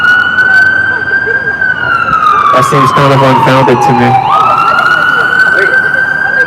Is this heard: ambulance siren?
yes